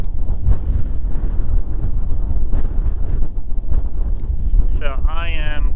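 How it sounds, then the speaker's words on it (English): Strong wind of 20 to 30 miles per hour, gusting to 40, buffets the microphone at White Sands in a continuous roar with rising gusts, and a brief voice or squeak appears near the end. "We have 20 to 30 mile an hour winds, gusts of 40."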